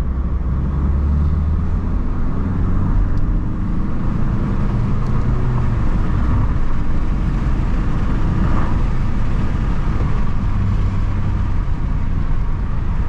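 A new car accelerates on an open road, heard from inside the cabin as a steady, loud, low engine drone and road rumble with no voices.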